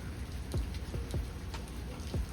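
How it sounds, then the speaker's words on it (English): Steady rain falls on a surface, a constant soft hiss with occasional heavier drips and splashes nearby. "Using the natural rain that God gave us."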